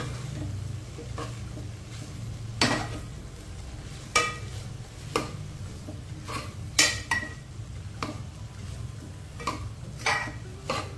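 A spoon scrapes and taps around a pan as a masala mixture is stirred over the gas, making repeated sharp knocks over a low, steady cooking hum and faint sizzle.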